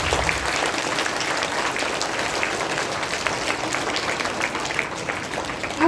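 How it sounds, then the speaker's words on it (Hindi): School audience giving loud, steady applause to sub-junior children after their Hindi poetry recitations, a full, dense round of clapping lasting several seconds. "मैं चाहती हूँ एक बार उन बच्चों का उत्साहवर्धन करने के लिए आप जोरदार तालियां बजाएं"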